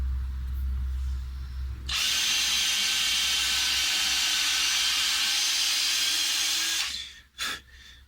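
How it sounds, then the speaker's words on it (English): Power drill boring a hole into a Les Paul guitar neck, a steady loud whine running about five seconds after a quieter idle start, then stopping with a couple of short bursts at the end. "I may actually drill a hole over on this side to get some steam into there as well."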